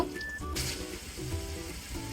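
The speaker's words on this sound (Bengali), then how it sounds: "এবার আমি এখানে হাফ কাপের মতো পানি দিয়ে দিব" About half a cup of water hits frying cumin powder in a hot pan, giving a steady close sizzle and bubbling that holds throughout the short stretch.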